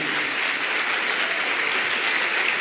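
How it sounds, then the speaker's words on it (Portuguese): A church congregation at a founding assembly of a Brazilian church applauds together, steady dense clapping that fills the room at an even loudness from start to finish. "Por favor, se manifeste aplaudindo o Senhor."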